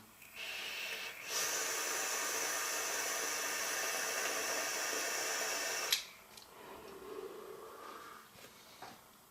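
A vape hit drawn from a Bam Bam mech mod: a quiet, steady hissing draw lasting several seconds, followed by a faint exhale.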